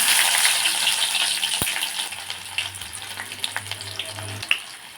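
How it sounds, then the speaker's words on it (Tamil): Fenugreek and mustard seeds frying in hot sesame oil for a spicy rock fish curry, a loud close sizzle and crackle that fades slightly, with a sharp clatter near the start and a low hum underneath, no talking. "நல்லெண்ணெய் சேர்த்துக்கலாம் இப்போ வெந்தயம் சேர்த்துக்கலாம் கடுகு"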